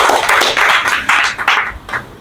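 Audience applause at a rural literary stage event, a dense crowd clapping loudly and steadily for about two seconds before thinning toward the end, heard without any talk.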